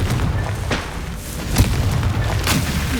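A Confringo spell blast in the video game Hogwarts Legacy: several sharp booming bursts, the strongest at about the midpoint, fired at a steady pace over a low rumbling bed of game noise.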